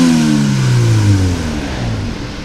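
An off-road car on a Gambler 500 run in Georgia revs after a new engine mount goes in, a steady loud engine drone with the pitch sliding down and settling, close and alone.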